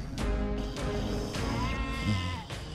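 A mother goat in a children's fairy tale bleats loudly again and again, crying for her lost kids. The wavering calls come close and clear.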